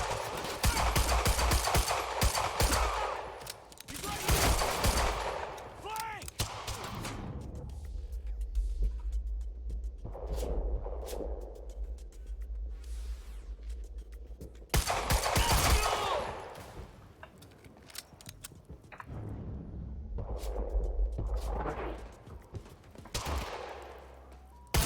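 Bursts of automatic gunfire in the action shooter game Quantum Break, loud and dense in several clusters across the clip, separated by quieter stretches with a low rumble.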